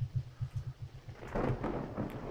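A thunderstorm rolls outside the mansion in the video game Murder at Masquerade Manor, with a low rhythmic rumble giving way to a swelling crash of thunder over steady rain, fairly faint and without speech.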